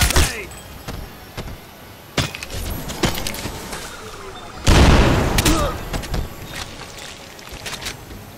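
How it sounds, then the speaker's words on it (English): Combat in the video game Crysis Remastered, with loud gunfire cracks and a heavy explosion-like boom over a constant rumbling game soundscape. "Incoming fire!"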